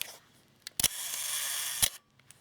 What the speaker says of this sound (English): If I just set it to 1 second and fire the shutter,